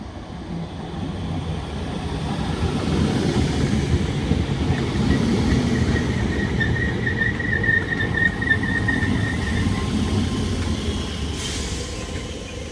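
A Merseyrail train rumbles steadily through Capenhurst station, close and loud, with a thin metallic squeal running over the rolling noise midway.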